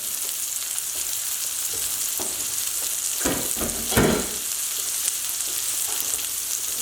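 Chicken meatballs fry in a pan with a steady, close hiss of sizzling oil, broken around the middle by a few louder crackling bursts and spatters as they are turned.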